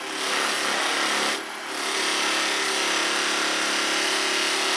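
A buffing mop spins on a polishing machine with a steady, loud broadband whir that dips briefly as it is loaded, then resumes its even drone; no voices.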